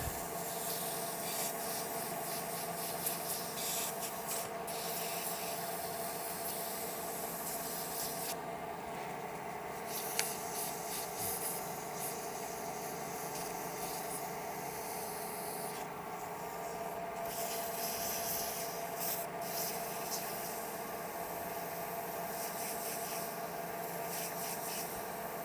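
A turned deer grunt being sanded with 400-grit paper on the lathe: a continuous, even rubbing hiss with a steady machine hum beneath it, close and unbroken throughout.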